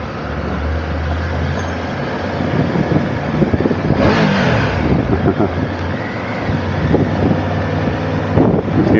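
A motorcycle on a road in Portugal gives a quick rev, a rising engine surge around the middle over steady wind buffeting and road rumble, followed by a second brief blip near the end.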